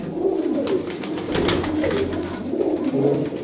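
Flying pigeons from a Pakistani loft coo in low, throaty, overlapping rolls close by, a continuous murmuring chorus with no talk.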